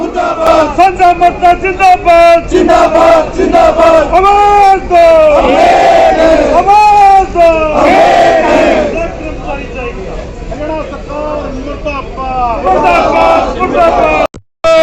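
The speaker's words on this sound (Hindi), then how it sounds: "गोहाना के बस स्टैंड की तस्वीरें हैं जहां पे सरकार के खिलाफ नारेबाजी की जा रही है" Roadways workers at the Gohana bus stand in Haryana chant protest slogans against the government, a loud massed crowd calling in repeated rhythmic shouts, close and continuous before cutting off abruptly.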